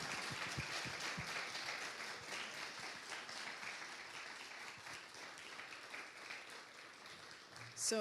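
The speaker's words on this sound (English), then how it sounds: "Can we give a round of applause?" Sustained applause from an audience thanking a panel of authors after a conversation event, with a broad wash of many hands clapping at a moderate, distant level, a few voices mixed in, and a brief louder bump at the very end.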